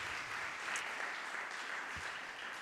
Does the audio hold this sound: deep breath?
no